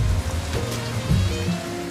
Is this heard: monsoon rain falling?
yes